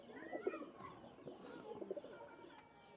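Teddy pigeons, a group of about seven pairs, cooing in soft, low, throaty bursts, faint and close, with scattered calls overlapping and no talking.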